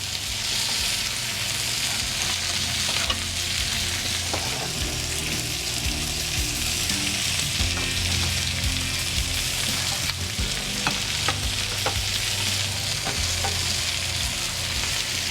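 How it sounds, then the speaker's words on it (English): Food sizzles steadily on a grill pan over a stovetop burner, a dense, even hiss of frying with occasional faint pops and ticks, close and uninterrupted, with no voices. "All right, we're gonna let these grill for a few minutes."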